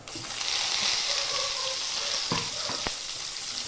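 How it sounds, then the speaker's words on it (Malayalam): Onions and tomato sautéing in a pan for an oyster mushroom roast, a steady close sizzle with a few sharp clinks of a spoon against the pan toward the end. "സബോള നന്നായിട്ട് വഴന്ന് വരുന്ന വരെ ഇറക്കുക"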